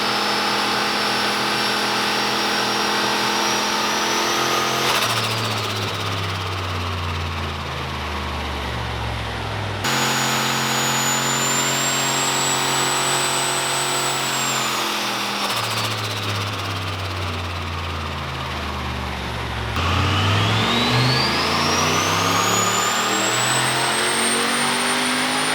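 A turbocharged Gen3 LS V8 in a VX Clubsport revs hard on a dyno in repeated pulls, each rising to a loud, high-pitched scream with a whistling turbo whine before dropping back, with no one speaking.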